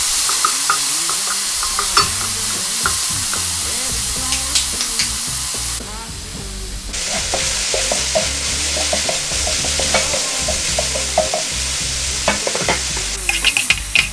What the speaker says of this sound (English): Real quick stir fry.